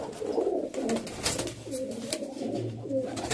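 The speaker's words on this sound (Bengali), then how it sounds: "এই পায়রার স্ট্যান্ডিং আমার টেডির মতোই" Pigeons of the Kamagar and Golden breeds coo close by in soft, rolling, repeated calls. The calls overlap through a few seconds, with light flutters and rustles between them.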